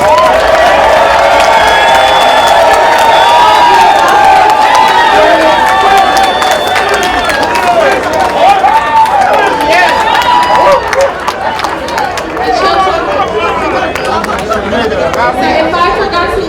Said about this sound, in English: Can I get a round of applause for Kyagulanyi Boston, please?